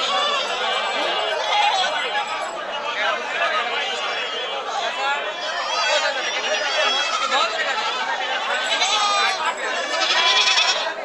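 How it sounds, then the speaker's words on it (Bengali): Many goats bleat over and over amid a dense crowd hubbub at a goat market, with people talking throughout and animal cries overlapping continuously. "অসংখ্য ছাগল আপনাদের এক নজরে এই ছাগলগুলো দেখাচ্ছি"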